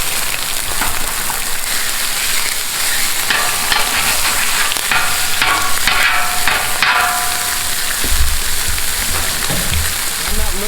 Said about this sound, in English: I'm gonna cook enough bacon right now for all of the burgers